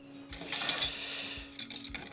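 Lightweight Cedar Summit camping cutlery clinks and rattles in a few quick bright metallic bursts, close and fairly quiet, with a faint steady hum underneath.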